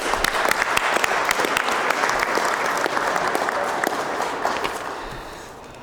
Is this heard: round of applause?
yes